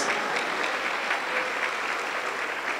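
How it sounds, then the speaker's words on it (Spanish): A church congregation claps steadily and continuously, a dense, even patter of many hands at moderate distance. "Con gozo aplauda para Cristo Jesús."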